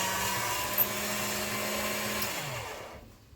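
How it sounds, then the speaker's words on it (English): Hand-cranked pasta machine rolling polymer clay flat on its thickest setting, a steady mechanical whirring hum that fades out at the end. "we need to flatten this out in the pasta machine"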